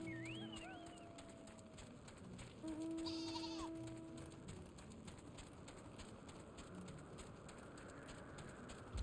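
A sheep in Final Fantasy XIV gives a single short bleat over a steady outdoor game ambience with faint birdsong, while a quiet voice talks in the background.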